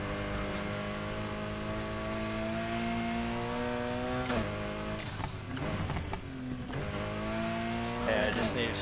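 A car runs flat out near its top speed in Need for Speed Heat, its engine a loud, steady, high drone with a couple of gear shifts that dip and climb again, while tire and wind noise rush underneath.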